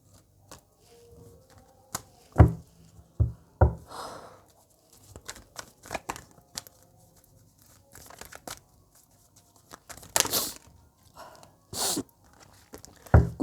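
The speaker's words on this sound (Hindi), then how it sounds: "अभी मैं इन कार्ड्स को सीधा कर देती हूँ।" Tarot cards handled and straightened into a neat stack, with scattered close papery rustles, taps and crinkles, a few sharper louder snaps near the start and later, and quiet gaps between, with no talking.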